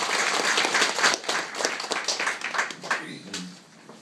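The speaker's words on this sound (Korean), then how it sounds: "박수로 맞아주시죠." Audience applause at a memorial mass marking the third anniversary of the Yongsan tragedy, welcoming a speaker to the front: steady, dense clapping from a crowd that fades out toward the end.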